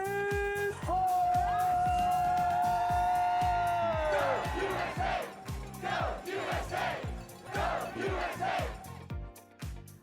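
A crowd at a World Cup skiing and snowboarding event roars with cheers and whoops after a USA win, loud and sustained. A sung or shouted tone rises early on, then the noise breaks into rhythmic, chant-like surges of cheering.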